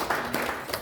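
A short burst of audience applause at a talk given by politician Sim Sang-jung, with scattered clapping swelling briefly and fading within a second.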